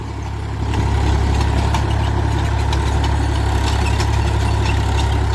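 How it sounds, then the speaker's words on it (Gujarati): A Massey tractor drives a rotavator through damp, dusty field soil, giving a loud, steady low engine drone that swells slightly after the first moment and then runs evenly without pause. "રોટાવેટર મેસી પણ જોરદાર હાલે આમાં જો."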